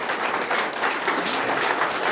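Applause from a small group, a brief dense patter of hands clapping that holds steady and fairly loud for about two seconds.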